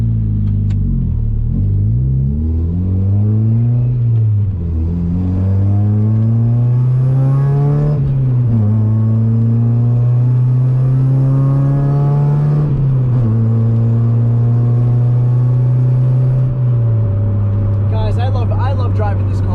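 Mazda Miata NA with an aftermarket exhaust cruising on a highway, a steady droning engine note rising and falling through gear changes, loud and close inside the cabin with no talk over it.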